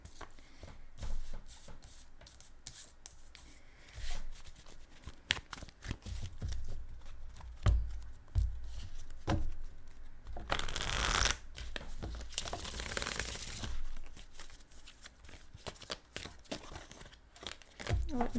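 A deck of reading cards shuffled by hand: soft rustles and taps, then two dense, riffling bursts of cards flicking together, close and fairly quiet.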